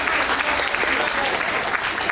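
Audience applause at a live comedy and mimicry stage show, a dense steady clatter of many hands clapping at once, loud and continuous across the whole stretch without a break.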